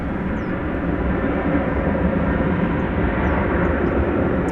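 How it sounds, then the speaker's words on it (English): A fixed-wing airplane passes at DFW Airport, its engines making a loud, steady, broadband roar that holds throughout with no talking. "here comes a plane"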